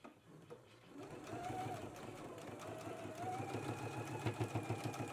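A sewing machine stitches a 5/8-inch seam allowance on a McCall's M8449 garment, running in a steady, fast mechanical whir with rhythmic ticking. The sound is close and fairly quiet and speeds up near the end.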